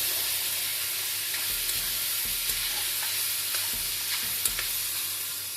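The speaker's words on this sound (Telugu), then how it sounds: "నేను ముందుగా కట్ చేసి పెట్టుకున్న టమాటాలు వేసుకుంటున్నాను బాగా కలుపుకోవాలి" Chopped tomatoes frying with tindora in a pan sizzle steadily up close while a spoon stirs them in repeated scraping strokes, with no one speaking.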